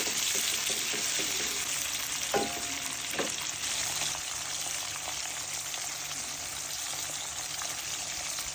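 Chopped onion, salt and mixed spices fry in a pan with a constant close hiss of sizzling oil, with a couple of brief utensil clinks as the mixture is stirred.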